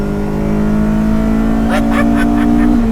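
A carbureted mid-engine Ferrari Dino GT4 engine drones loudly from inside the cabin, its pitch rising steadily as it accelerates, with brief voices breaking in near the end.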